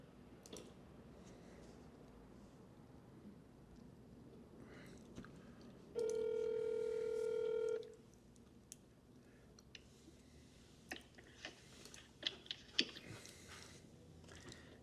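A telephone dials out a call, with a steady electronic tone held for about two seconds, followed by a series of short, sharp keypad clicks and beeps.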